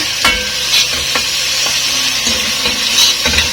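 Onions with salt being stirred in a hot pan, a steady sizzle with a utensil scraping and knocking the pan at irregular intervals, close and fairly loud, no talking.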